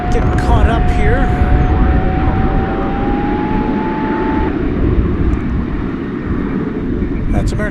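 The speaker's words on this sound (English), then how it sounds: "That's American Flight 2650 off to Cancun." An American Airlines jet takes off at Dallas/Fort Worth airport with a loud, close, sustained engine roar and a rising whine, while voices talk over it.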